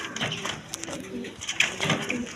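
Large Roman pigeons, a male and a female, coo close by in soft, throaty repeated calls, with faint background murmuring.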